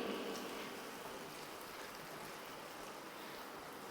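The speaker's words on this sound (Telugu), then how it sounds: "ఇదే స్టవ్ మీద బెండకాయ వేపుడు రెడీ చేసుకుందాం" Okra (bendakaya) frying in a pan on the stove, a steady close sizzle and crackle that stays even and continuous throughout with no voices.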